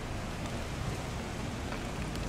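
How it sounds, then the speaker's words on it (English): Steady rain falls outdoors, a soft even wash of hiss and patter with no pauses and no voices. "it's raining pretty good"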